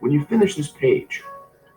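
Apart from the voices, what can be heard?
No everyday noise stands out behind the speech.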